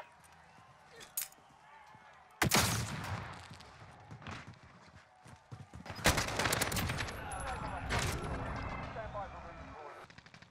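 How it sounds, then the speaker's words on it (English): Gunfire in a Call of Duty Warzone match comes in several loud bursts after a quiet start, with sharp shots and rattling volleys separated by brief gaps, and someone talks over parts of it. "Sounds like somebody else is up there shooting"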